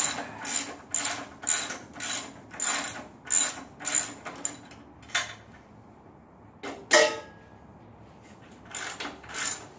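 A socket wrench ratchets in quick bursts of sharp clicks while a car fender is being removed, close and clear, with pauses between strokes and a few louder metallic clacks near the end.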